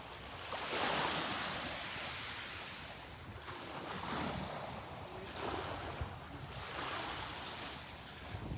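Ocean waves wash onto the beach at Delnor-Wiggins on a morning walk, a broad hiss of surf that swells and recedes in slow surges, mixed with wind buffeting the microphone, with no voices.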